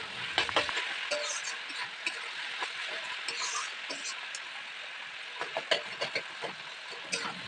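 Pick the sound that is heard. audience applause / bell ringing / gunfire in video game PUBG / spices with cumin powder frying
spices with cumin powder frying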